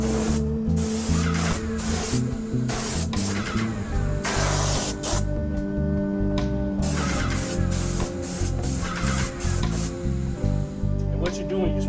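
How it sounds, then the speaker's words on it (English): Continuous loud hiss of a sprayer applying stain to a pressure-washed wooden deck with an old clear coat, aimed upward under the bottom edge. It stays steady for the whole stretch with brief pauses, and a voice is heard beneath it. "what you're doing, you're spraying up so you can get underneath the bottom."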